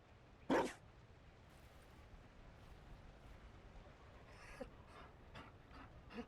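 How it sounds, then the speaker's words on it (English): A dog in Dragon Age: Inquisition gives one loud, close bark, then pants softly and steadily, with a few fainter huffs and yelps near the end. "You found a dog?"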